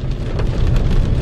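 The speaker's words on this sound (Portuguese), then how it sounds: "Chovendo." Rain falls on a car driving home along a poor road, giving a steady, loud hiss and patter of drops across the whole moment.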